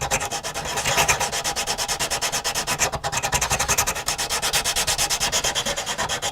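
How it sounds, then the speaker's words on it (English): Sanding wood on a 1/84 scale Deagostini HMS Victory model ship, rapid rhythmic back-and-forth rasping strokes, loud and close, continuing steadily throughout. "give this a bit of a sanding."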